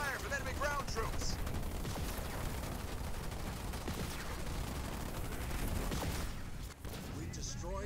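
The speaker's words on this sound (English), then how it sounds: "I'm receiving fire from enemy ground troops." Enemy ground troops firing on a unit in the real-time strategy game Halo Wars 2: a dense, faint battlefield wash of overlapping gunshots and distant blasts, steady throughout, with voices over it.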